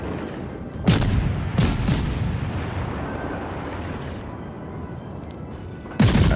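Heavy naval gunfire from battleship barrels in a tier 3 World of Warships battle: a loud booming salvo near the start, two more blasts shortly after, a rumbling tail, then another sharp boom at the end.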